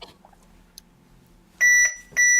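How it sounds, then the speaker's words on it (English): A chair gives off loud, sharp electronic beeps: a pair of quick tones followed by a longer sustained beep, heard alone and without talk. "Your chair has a beep?"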